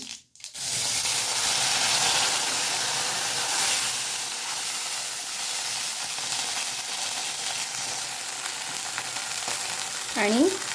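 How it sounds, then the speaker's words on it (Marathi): Mustard seeds dropped into hot oil in a kadhai for a dhokla tempering, with curry leaves, crackle and sizzle loudly and steadily from start to finish after a brief quiet opening, with a small clatter near the end. "फोडणीसाठी आता कढईमध्ये मी तेल घेतलं त्याच्यामध्ये थोडीशी मोहरी टाकते"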